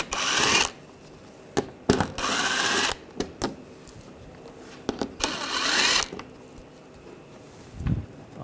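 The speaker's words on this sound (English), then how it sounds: "Using a 7mm socket, take these screws out." A 7mm socket on a power driver or ratchet backing screws out of a 2009-2017 Volkswagen Tiguan, several short whirring bursts close by, separated by clicks, taps and quiet gaps.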